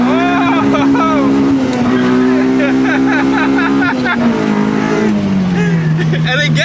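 A K-Series Honda K20-powered car revs hard at launch, a loud high engine whine climbing and falling in steps close by, with tire squeal mixed in under the noise.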